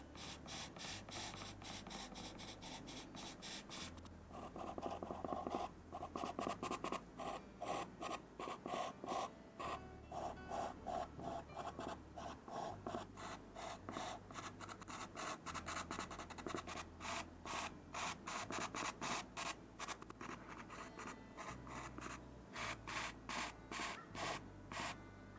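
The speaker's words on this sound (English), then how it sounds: "I'm using a light to medium pressure with this pencil for this." Pastel pencil dragged across paper with light to medium pressure while drawing flowers, giving a steady run of soft, rhythmic scratchy strokes close by, with no talking.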